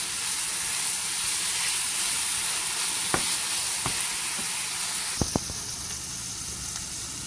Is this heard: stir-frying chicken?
yes